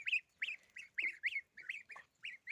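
Young geese peep in a rapid series of high, thin chirps, about a dozen calls, near and fairly soft.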